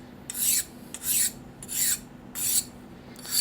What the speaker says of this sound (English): Deburring this razor sharp edge with diamond file.